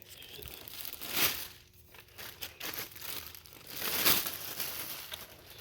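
Plastic bag crinkling and tearing as a Milwaukee M12 cordless grease gun is pulled out of its packaging, with bursts of rustling and crunching that swell twice and continue steadily close up.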